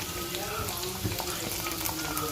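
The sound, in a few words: garlic cloves and dried red chillies frying in pan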